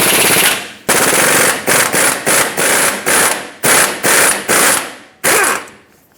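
A 28mm socket on an impact wrench spins off the ball joint mounting nut of a Ford Excursion, loud rapid hammering bursts repeating about ten times with short gaps between them, close up with no voices.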